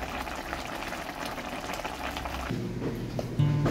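A pot of pork stew bubbles at a steady boil, a constant close simmering hiss with a faint tone creeping in toward the end.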